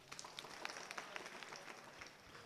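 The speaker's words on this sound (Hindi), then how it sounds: "ताली बजाओ इसके लिए" Schoolchildren at a school in Dungarpur applaud a girl called to the front of the class; scattered, fairly faint claps patter unevenly for a couple of seconds in a quiet room.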